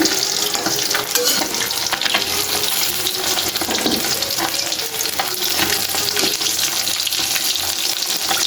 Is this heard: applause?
no